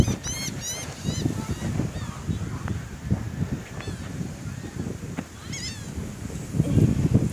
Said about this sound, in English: And all the seagulls waiting for food.